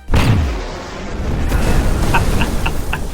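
A sudden loud boom at the start rumbles and fades, followed by crackling debris and a few faint high ticks.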